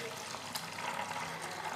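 Water poured into a container holding detergent powder, used for cleaning washroom walls, a steady soft trickling splash running throughout at moderate, close range.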